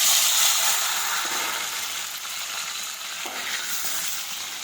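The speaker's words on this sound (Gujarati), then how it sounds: "હવે આપણે તેમાં રાઈ અને જીરું નાખી દઈશું. બટાટા નાખી દઈશું બાફેલા." Boiled potatoes frying in hot oil with mustard seeds and cumin give a loud, steady sizzle and crackle throughout, close by, with no talking.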